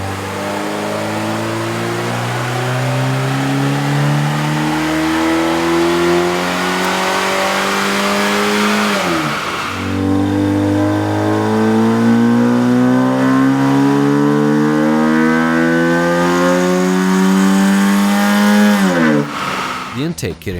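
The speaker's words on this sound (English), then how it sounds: "With the air intake installed, we ran the vehicle on the dyno to test the sound comparison versus the stock intake." A Chevrolet Cobalt fitted with a K&N cold air intake revs repeatedly on a dyno, the loud mid-pitched engine climbing steadily through each run, dropping off, then rising again, with a steady drone throughout.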